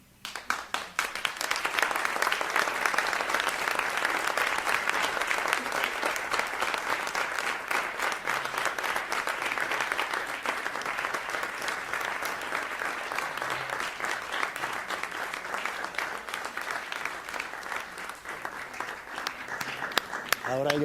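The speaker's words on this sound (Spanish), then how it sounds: "Ahora yo les aplaudo a ustedes." Sustained audience applause at a public interview event fills the whole stretch, dense and even, without a break and without anyone speaking over it.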